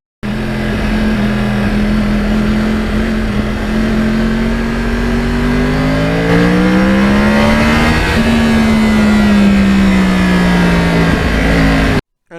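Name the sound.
Yamaha R1 crossplane motorcycle engine revving at wide-open throttle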